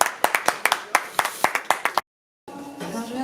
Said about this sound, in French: On applaudit très fort Tania.